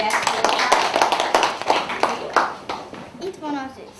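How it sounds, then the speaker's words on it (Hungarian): Clapping and applause at a children's show, a run of sharp, close claps in an uneven rhythm that thins out as a voice starts speaking near the end. "De jó, tapsoljuk meg"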